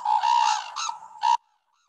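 Birds call from a swamp in three harsh, crow-like caws, loud and close, each a few tenths of a second long, then silence.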